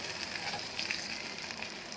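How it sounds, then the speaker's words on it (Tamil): Hot oil crackles and sizzles steadily in a pan as mustard seeds and curry leaves are tempered, a dense bright spattering with small pops, close by and fairly quiet. "கடுகு, கருவேப்பிலை எல்லாம் போட்டு வசக்கி ஊற்றுறேன்."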